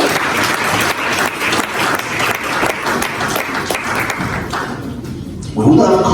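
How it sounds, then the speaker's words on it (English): A seated audience at a speaking event claps in a broad, even wash for about five seconds. It then fades as a voice begins talking close by. "I thought you would clap to that."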